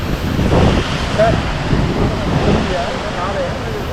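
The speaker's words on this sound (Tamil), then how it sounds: "இங்கே பாருங்க தண்ணி இங்கேருந்து ஊற்றுது" Water pours and rushes at Hogenakkal falls, a loud, continuous broadband roar heard close by, with a voice talking over it.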